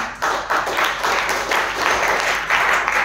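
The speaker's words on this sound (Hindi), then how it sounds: "ताली नहीं बजाओगे इसके लिए" An audience at a teamwork seminar claps, a dense burst of applause pulsing in waves with faint voices mixed in.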